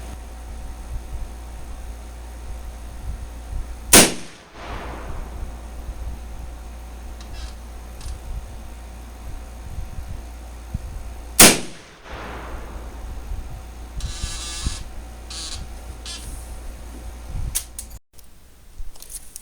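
Two loud, sharp shots from a Marlin 30-30 rifle fired at a target, spaced about seven seconds apart, each with a short echoing tail over a steady low background and no talking.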